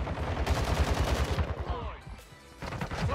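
Rapid bursts of STB 556 rifle fire from a Modern Warfare 2 multiplayer match, loud and rhythmic for about two seconds, then stopping briefly before another burst starts.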